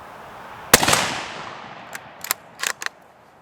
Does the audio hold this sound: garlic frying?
no